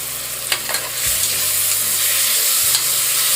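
Curry leaves crackle in a hot pan for a Tamil-style gravy, with a couple of sharp spattering pops at the start swelling into a loud, continuous close-up sizzle with low stirring thumps.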